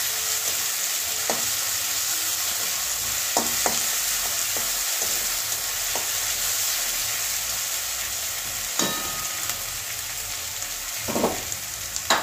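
Ginger-garlic paste frying in a pan for a duck egg curry with cauliflower and peas, giving a steady close sizzle with occasional scraping stirs and soft clicks throughout, no voices.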